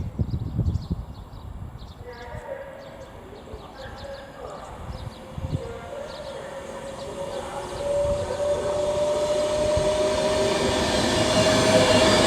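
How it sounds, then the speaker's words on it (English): Avanti West Coast train 39117 approaches and passes through Stafford station on the West Coast Main Line, a rumble building steadily louder with a sustained horn-like tone, while a person talks early on. "now approaching is going to be 39117 for Avanti West Coast, passing through about 3 minutes late"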